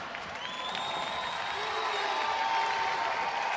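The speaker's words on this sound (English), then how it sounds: "Crowd on their feet." A women's college basketball crowd in Tampa rises to its feet, cheering and applauding loudly and continuously, with whoops rising over the steady clapping.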